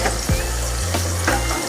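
Hot tempering poured over freshly made khaman, giving a loud steady sizzle and hiss with a couple of brief splashy bursts as the oil hits.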